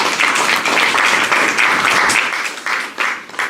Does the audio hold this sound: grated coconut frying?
no